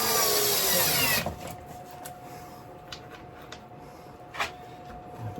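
A power drill drives countersunk screws into plywood decking for a model railway baseboard, one loud sustained whirring run at the start, then quieter scattered taps and knocks.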